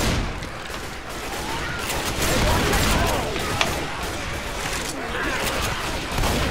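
Rapid bursts of gunfire from players in the zombie shooter Left 4 Dead 2 crackle loudly and almost without pause, with game noise filling the background.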